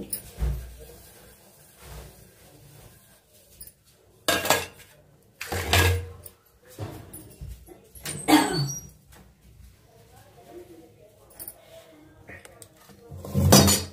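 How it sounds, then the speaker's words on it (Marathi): Vegetable curry of masala-stuffed brinjal being served from a small kadai into a dish, metal utensils clinking and scraping in several separate bursts between quieter pauses. "तर ही भाजी एका बाउलमध्ये काढते."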